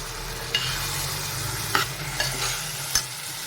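Cooked sprouted-bean usal, a mix of soaked pulses, tipped into hot tempering in a pot, giving a steady close sizzle with a few sharp clinks and scrapes of a spoon stirring; no talking.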